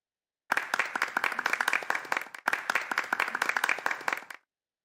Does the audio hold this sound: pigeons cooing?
no